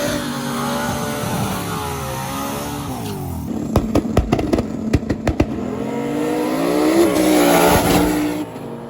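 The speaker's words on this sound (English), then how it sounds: "We have the Camaro that's been doing gnarly wheelies, and then the awesome Toyota." A Camaro and a Toyota truck race in a stick shift final at a hot rod street racing event, loud engines revving and climbing through gear changes, a burst of sharp popping crackles midway, then a strong roaring pass near the end.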